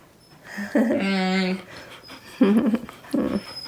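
A dog whimpers in a drawn-out whine, then gives short panting, yipping breaths at close range, with people talking nearby.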